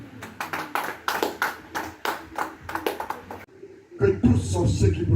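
A church congregation claps and cheers in acclamation of Jesus during a French-language deliverance service, rhythmic hand claps rising over a loud crowd, with a preacher's voice carrying over the applause.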